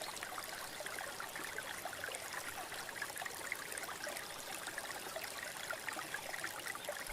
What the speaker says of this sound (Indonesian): aliran sungai ini.